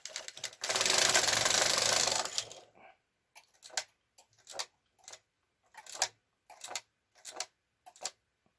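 A home knitting machine carriage sweeps one row of a sweater sleeve at tension 10 in a loud two-second rush. Scattered clicks and ticks of the needles and parts settling follow.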